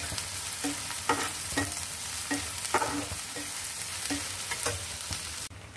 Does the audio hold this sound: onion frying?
yes